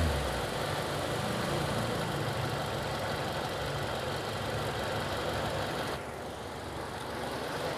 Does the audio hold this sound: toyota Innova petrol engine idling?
yes